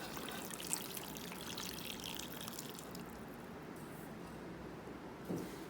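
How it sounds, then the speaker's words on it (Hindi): Water poured into a cooking pot of namkeen gosht (salted mutton) for a Bakra Eid dish, a steady close pouring and splashing wash running throughout, with a brief louder splash near the end and no talking. "इसके बाद इसमें मैं डालूँगी पानी।"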